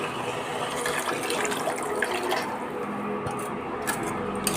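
Water pours steadily into a cooking pot in a home kitchen, a continuous loud, close gushing splash with no pause.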